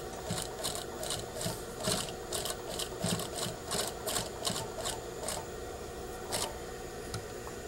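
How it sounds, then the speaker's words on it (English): A sewing machine stitches a row on a garment in a steady rhythmic run of rapid mechanical clicks and whirring, with regular brief pulses, close by and fairly quiet. "Put a row of stitching, one row over from the original row of stitching."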